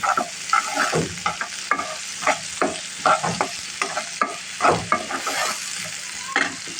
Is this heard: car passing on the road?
no